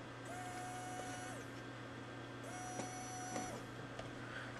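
Small electric motor in a hobby RC receiver setup switched on by a radio transmitter signal, giving a steady thin whine in two bursts of about a second each over a constant background hum.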